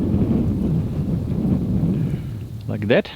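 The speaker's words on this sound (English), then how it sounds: "And there's more and more wind" Strong wind gusts roar outdoors ahead of an approaching thunderstorm squall line, a steady close buffeting rumble that swells near the end, where a voice briefly speaks over it.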